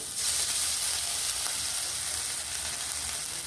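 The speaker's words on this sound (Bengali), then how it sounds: "কড়াই তেল দিয়ে আদা রসুনটা দিয়ে দিচ্ছি" Ginger and garlic sizzling in hot oil in a wok, a loud, dense, continuous frying hiss that holds steady throughout with no speech.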